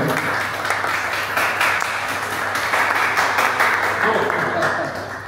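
Applause from an audience at a community evening debate at the Consistoire Israélite du Bas-Rhin, steady dense clapping sustained throughout with a voice heard faintly under it.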